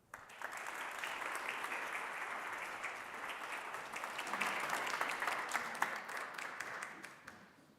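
Sustained audience applause fills a hall after a graduate talk, a dense, even wash of many clapping hands that swells slightly midway and then fades toward the end.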